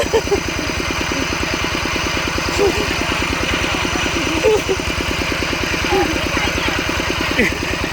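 A steady, rumbling tractor engine chugs at an even idle pace throughout during rice-field plowing, loud and close, with faint voices in the background.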